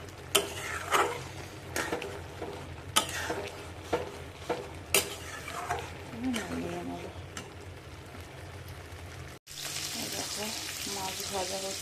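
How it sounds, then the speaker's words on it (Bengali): Fish frying in a pan gives a hissing sizzle with intermittent sharp clinks and taps of utensils, while a person talks over it; the sizzle grows louder near the end. "মাছ ভাজা হচ্ছে।"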